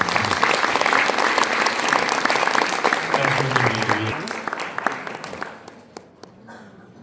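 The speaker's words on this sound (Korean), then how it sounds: "여러분 박수 한번 부탁드리겠습니다." Applause from a church congregation, with sustained clapping that fills most of the moment, then thins out and fades toward the end, with voices mixed in beneath it.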